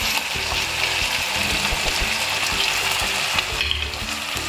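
Green onions fry in a pan for a green onion dish, a steady loud sizzle running throughout with occasional stirring scrapes, no voices.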